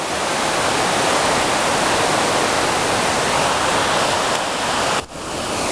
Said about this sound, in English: It looks like the hike is approaching the waterfall.